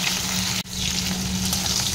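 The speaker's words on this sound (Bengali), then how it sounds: "কাঁকরোলটা আমি ভালো করে লাল লাল করে ভেজে নেব।" Kakrol (bitter gourd) fries in hot oil, giving a loud, dense and continuous sizzle with one brief dip.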